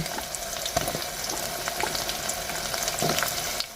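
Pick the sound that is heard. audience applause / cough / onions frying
onions frying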